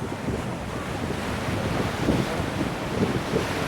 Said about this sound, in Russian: Начинается Тихий океан, а сзади Манила.